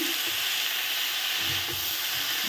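Chopped greens in a hot pan give off a steady, even hiss of steam and sizzle, close up and constant, with faint low rustles of stirring underneath and no voices.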